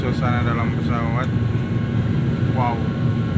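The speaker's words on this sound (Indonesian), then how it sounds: "Ini suasana dalam pesawat." Steady loud cabin drone inside a Lion Air airliner shortly after takeoff, a broad continuous engine and air-conditioning hum, with brief voices speaking over it.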